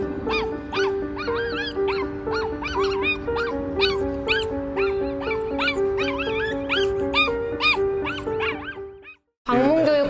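A white schnauzer barks frantically in a rapid, almost nonstop series of sharp high yaps and yips for about nine seconds over a steady tonal background, then the sound cuts off abruptly and a short burst of other noise follows.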